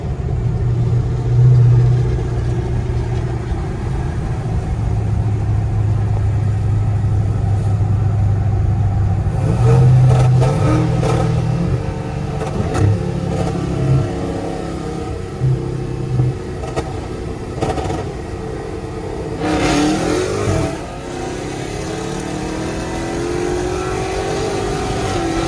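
A Dodge Hellcat's engine revs hard and drones loudly and steadily close by, with tyres spinning, the pitch rising and falling as the throttle changes, and no talking over it.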